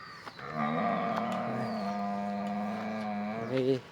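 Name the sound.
cattle mooing in a farm shed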